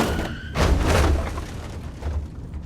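A car slams into something in the horror video game Withered Haven, a heavy low boom and thud that rings on briefly before a second, softer rumble.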